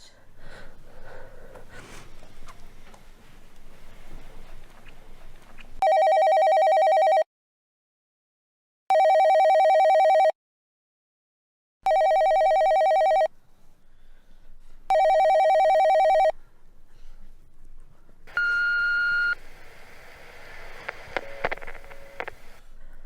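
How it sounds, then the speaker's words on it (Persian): A home landline telephone rings four times in evenly spaced loud bursts with silent gaps, and breathing and rustling can be heard before and after. "من عذر میخوام که تلفن منزل رو گرفتم"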